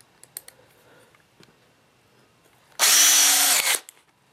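A power drill drives a screw while building an acoustic panel, whirring in a single short burst of about one second, close and loud, after several faint clicks and taps.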